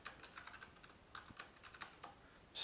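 Keystrokes on a computer keyboard entering a command into a 3D printer's control terminal, a quick irregular run of close, fairly soft clicks with short pauses, ending in a sharper, louder press.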